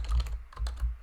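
Quick bursts of keystrokes on a computer keyboard, close and crisp, tapping in an uneven rhythm while text is entered into a Tableau dashboard.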